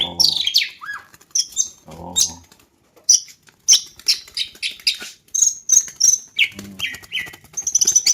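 A green leafbird (cucak hijau) kept as a songbird gives bright, quick chirps and short whistled calls in scattered bursts, with brief rustling that may be wing flaps, close by and fairly loud, with no talking.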